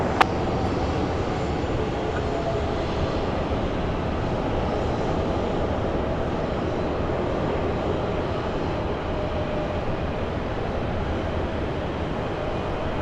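An aircraft on an airport runway gives a loud, steady engine roar that holds unbroken throughout, with no talk.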